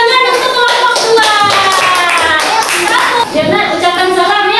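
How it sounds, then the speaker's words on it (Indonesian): Loud, dense clapping from a classroom group, with children's voices chattering through it, applauding group 2 after a presentation in a teacher performance test. "beri tepuk tangan untuk kelompok 2"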